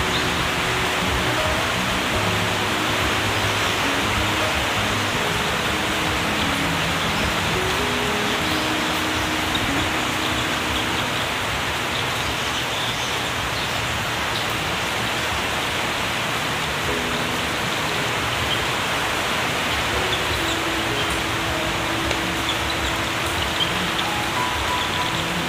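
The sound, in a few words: heavy rain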